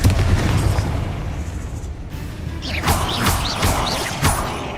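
Bombarda and Confringo spells go off in Hogwarts Legacy, giving a burst of booming, crashing blasts with debris-like crackle and swooshing tails. They are loud and close and come one after another.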